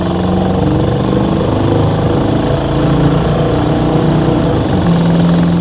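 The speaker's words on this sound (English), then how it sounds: "Roll into the throttle a little bit again." A 1987 Chevrolet K10 Silverado with a throttle-body 350 V8 and automatic transmission drones steadily as it rolls on the throttle during a test drive, a loud continuous engine hum with no talk.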